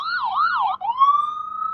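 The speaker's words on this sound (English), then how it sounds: "go get him, ambulance." An ambulance siren wails close by, a fast warbling yelp that shifts into a rising steady tone, loud and alone without voices.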